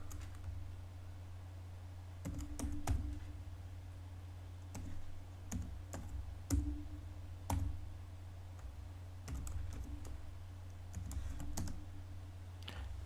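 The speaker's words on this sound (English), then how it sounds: "So I'm going to click, type in the password." Password being typed on a computer keyboard to unlock a BitLocker-encrypted drive: scattered bursts of soft key clicks, a few quick strokes at a time with pauses between, over a steady low electrical hum, no talking.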